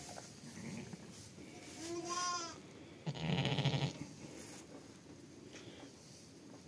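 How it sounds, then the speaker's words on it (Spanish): A ewe bleats during a difficult multiple lambing, a short wavering cry near the middle followed by a rougher, louder bleat, over quiet barn background. "¿No habéis escuchado que se ha hecho un otro balido distinto"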